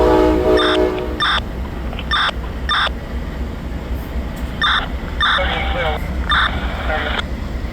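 Amtrak 97 pulls out of Fort Lauderdale with a low steady rumble of the moving train, while a repeated beeping chime rings out near the track and muffled talk sounds over it.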